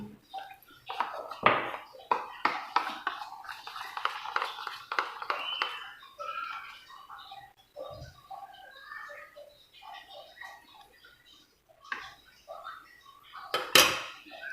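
A potato and Maggi noodle mixture stirred in a bowl, with repeated clinks and scrapes of a utensil against the dish, louder early on and sparser later, and a bird cooing in the background.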